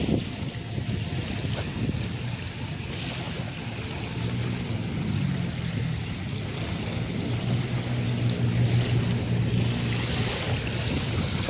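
Waves washing ashore at Manila Bay's Dolomite Beach, a steady, rolling surf wash blended with wind buffeting the microphone, continuous and moderately loud.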